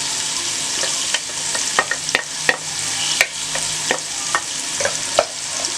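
Chopped onion frying in a spoonful of hot cooking oil as a noodle chaat is prepared, giving a steady close sizzle and crackle broken by repeated sharp scrapes and taps of a spoon stirring the pan.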